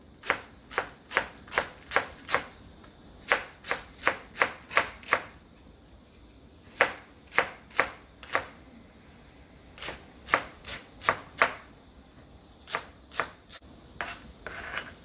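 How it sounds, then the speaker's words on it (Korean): Green onion being finely chopped with a knife on a cutting board, crisp close knocks in quick rhythmic bursts of four to six strokes separated by short pauses. "대파 총총 썰어주세요."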